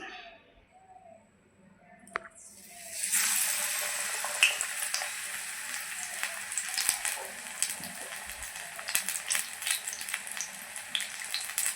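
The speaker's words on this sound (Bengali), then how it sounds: "আমি এখন পকোড়া ভেজে নিচ্ছি" Batter-dipped pumpkin pakoras drop into hot oil, bursting into a loud, close, steady sizzle after a quiet start, with small crackles and pops running through it and no talking.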